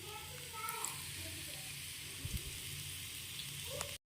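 Dabur red massage oil heats in a small pot, giving a steady, soft crackling sizzle of bubbling, fairly quiet and even throughout, with a couple of brief clicks.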